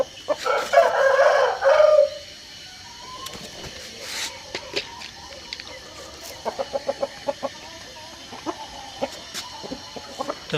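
A backyard rooster lets out one loud, close crow, then clucks and scratchy rustles follow in short irregular bursts.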